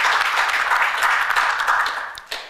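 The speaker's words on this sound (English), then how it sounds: "So can I have a round of applause for Taran?" An audience at a university research week session applauds, a dense burst of clapping that fades out over a couple of seconds.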